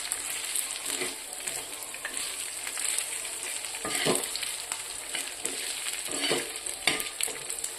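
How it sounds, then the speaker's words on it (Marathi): Dry coconut roasts in a pan over a high flame, with a soft continuous hiss broken by repeated scraping strokes from the stirring utensil, fairly quiet and without speech. "आता आपण खोबरं पण छान भाजून घेऊया."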